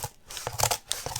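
Heavy scissors snip and crunch through stiff paper mache material in a few quick, close cuts with crinkly rustling between them.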